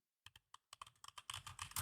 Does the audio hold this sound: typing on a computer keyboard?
yes